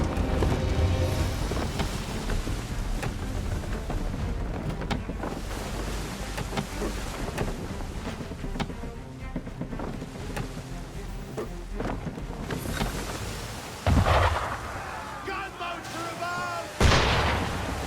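Cannon fire booms at a ship during a naval battle in Assassin's Creed 3 Remastered, with heavy rumbling blasts and splashy impacts over a constant roar of wind and sea, and two loud explosions near the end.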